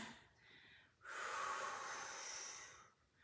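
Slow, audible breathing during a Pilates mat exercise, with a soft breath, a pause, then a long, louder airy exhale lasting about two seconds before fading, heard alone and fairly close.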